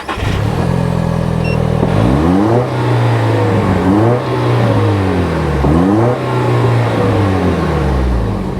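A 2024 Toyota Tacoma with the Turbo 4 engine and an optional black chrome exhaust tip idles loudly, then revs up and back down several times in a row, each rise and fall heard clearly, close by and outdoors.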